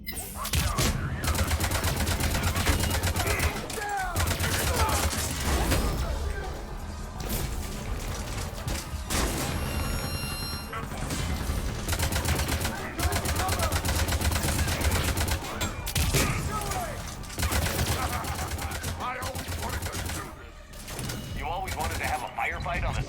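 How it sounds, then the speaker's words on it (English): A firefight on a ship's CIC in the video game Mass Effect Legendary Edition, with bursts of gunfire and mechanical clatter, dense and continuous, and voices talking throughout. "Firefight on the CIC of my ship?"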